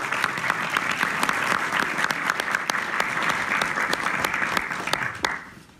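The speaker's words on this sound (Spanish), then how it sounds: "así que pido un fuerte aplauso para él." Sustained audience applause at a music masterclass in South America, dense clapping with a few sharp individual claps standing out, fading away at the end.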